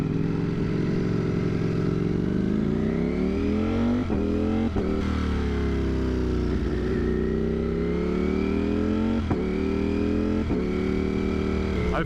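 A 200+ horsepower motorcycle fitted with an aftermarket exhaust rides along, its engine droning steadily with several rising and falling revs and gear changes.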